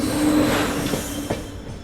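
The 22996 Mandor Superfast Express, a Jodhpur–Delhi Junction train, rolls past up close with steady loud rumble, a faint wheel squeal and a few rail clacks.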